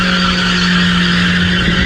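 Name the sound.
BMW Z3 car doing a tire burnout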